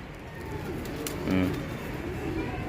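Racing pigeons coming in to a loft landing board after a race, with soft low cooing and faint fluttering bursts under a steady background murmur, one fuller coo rising briefly near the middle.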